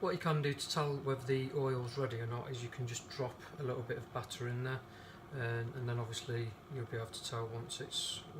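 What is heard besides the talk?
None of the usual background noises is heard.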